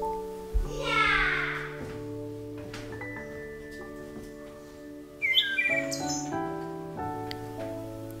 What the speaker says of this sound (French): vous entendrez les oiseaux chanter